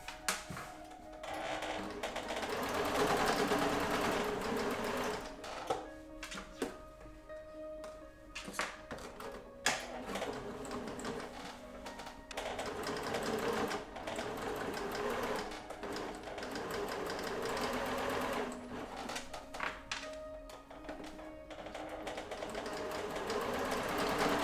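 Sewing machine stitching a quilt, running in steady bursts of rapid mechanical clatter with brief pauses between runs, close and clear with no talk.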